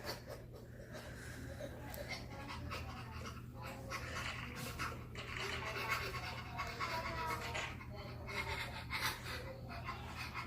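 A child imitates a panting dog with rapid rhythmic breathy huffs close by, repeating in bursts over a quiet room during a hair-braiding session.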